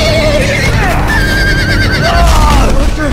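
A horse neighs and whinnies repeatedly in a Game of Thrones video game, loud and close, with rising and falling squeals over a low rumble of game ambience.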